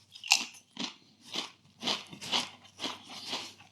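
M&S hand cooked sea salt and balsamic vinegar crisps are crunched up close, about eight sharp, brittle bites and chews in a steady rhythm, loud and alone with no talking.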